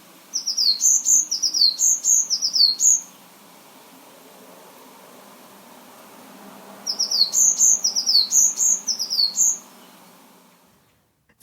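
A European goldfinch calls from a garden in two bright bursts of rapid twittering chirps, each lasting about three seconds, separated by a quiet pause with faint background hiss.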